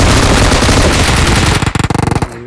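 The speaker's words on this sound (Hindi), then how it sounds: "गोली चला रहा है।" Automatic gunfire from a weapon in the battle royale game BGMI, loud and close, firing a dense burst that turns into distinct rapid shots near the end, then stops abruptly.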